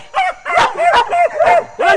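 A hunting dog barks during a lap hunt in Trinidad: about five sharp, loud barks close by, in an uneven rhythm with short gaps.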